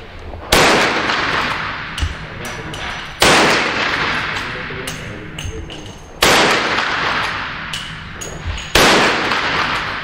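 Five loud, sharp gunshots from a shooter's timed string at a shooting range, spaced roughly every second and a half to three seconds, each with a crack and a ringing tail, close and alone.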